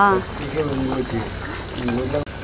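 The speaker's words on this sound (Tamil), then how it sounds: "செம்மையாக கொதிச்சிட்ருக்கு." Oily brinjal kuzhambu, a spicy Tamil eggplant curry, bubbling in a pot, with a steady close simmer running underneath a voice and a brief dip near the end.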